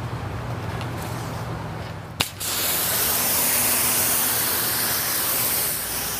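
Water spray rinses a Porsche GT3 RS, starting abruptly after a short click and then hissing steadily and fairly loud until the end.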